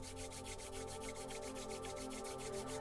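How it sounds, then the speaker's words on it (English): Two hands rubbing together during a guided energy exercise, a steady, continuous close swishing friction held at an even pace throughout with no talking. "take your hands and rub them together"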